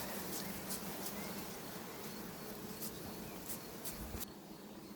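Honeybees in an opened hive drone in a steady, faint hum that carries through the whole stretch, with a few brief sharp clicks and knocks from handling the frames.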